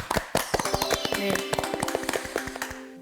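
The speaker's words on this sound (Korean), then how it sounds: "그 정성에 좀 큰 박수를 좀 보내드리고 싶습니다" Applause from a small audience at a Korean TV talk show, a quick burst of hand claps with sharp irregular taps, briefly under a single spoken word.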